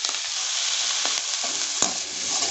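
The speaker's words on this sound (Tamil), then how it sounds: "நல்லா பாவக்காயை வதக்கிக்கிறங்க." Bitter gourd sautés in a hot pan for sambar, a dense, bright sizzle that holds steady throughout, broken by a few faint stirring clicks, close up with no voices.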